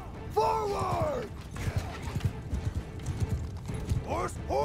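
Cavalry horses gallop in Bannerlord as a rapid, uneven drumming of hooves, with horses whinnying at the start and end, shouts from combatants, and battle clatter.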